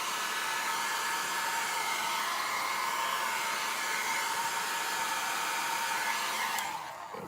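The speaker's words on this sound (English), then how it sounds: "you can move them around with the blow dryer" A blow dryer roars steadily at close range, pushing alcohol ink across a canvas, its even rushing airflow continuing for several seconds before spinning down at the end; no one talks.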